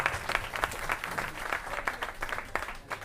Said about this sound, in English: big round of applause for Toshi.